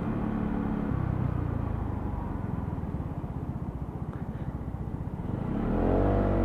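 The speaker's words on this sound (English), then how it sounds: "So when you throttle it up hard, and then all of a sudden it bursts to life." A Lexmoto Aura 125 motorcycle engine is throttled hard, giving a loud, steady, rough rumble with an uneven sputtering pulse before it surges louder near the end.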